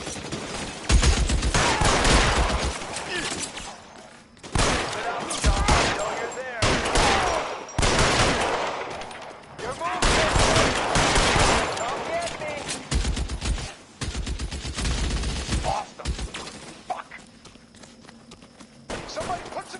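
Heavy gunfire in the crime video game L.A. Noire, with dense bursts and rapid volleys crackling loudly and almost continuously, broken by short pauses.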